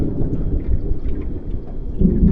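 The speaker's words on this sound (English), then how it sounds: "Out of nowhere, the storm rolled in." Thunderstorm over a boat anchored in the Gulf off the Kimberley, with a deep continuous low rumble of thunder and wind-driven rain roaring steadily throughout, no voices.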